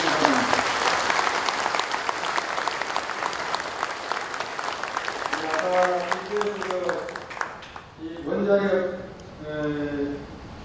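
A forum audience in a hotel hall applauds with loud, sustained clapping that carries through, while someone speaks over it toward the end.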